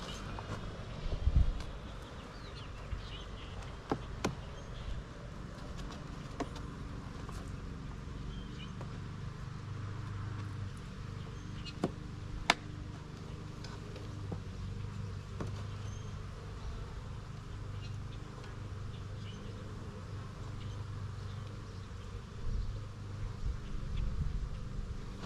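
Honeybees buzz steadily over an open beehive frame holding young larvae and emerging brood, a close, continuous drone with occasional louder passes of individual bees near the listener.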